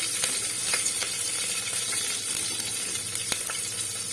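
Green chilies fry in hot oil with cumin and caraway seeds, giving a constant close sizzle broken by sharp little pops and a few spatula scrapes, with no talking.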